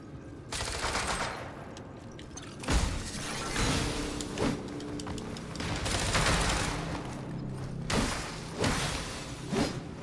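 Enemy gunshots in the video game AI Limit: a series of muffled thumping shots spaced a second or two apart over a constant low background rumble, with no talk.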